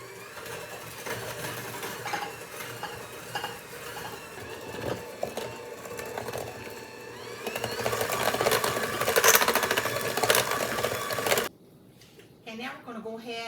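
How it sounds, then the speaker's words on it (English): An electric hand mixer whirs and rattles through coconut cake batter, a close buzzing motor that grows louder and busier midway, then cuts off while a voice speaks briefly at the end. "we're going to go ahead and mix this around with our mixer"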